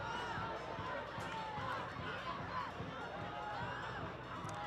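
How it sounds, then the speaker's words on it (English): A stadium crowd at a homecoming varsity high school football game roars and cheers in a broad, sustained wash of noise from the stands, with scattered shouts rising out of it and an announcer talking over the top. "The crowd's going nuts."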